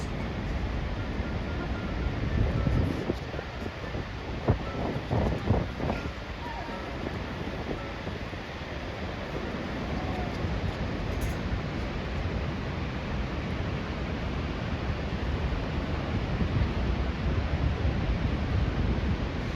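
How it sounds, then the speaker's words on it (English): Broad, steady roar of Niagara Falls seen from the end of a tunnel at the hydroelectric plant, a dense rushing wash of falling water that holds constant throughout, with a brief burst of other sounds near the start. "At the end of the tunnel is a spectacular view of Niagara Falls."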